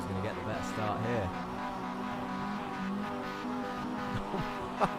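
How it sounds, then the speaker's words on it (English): Mazda MX-5 race cars revving at the start of an iRacing video game race at Oulton Park, a steady layered engine drone with rising and falling pitch sweeps under continuous commentary talk. "And here they go, revving their engines already."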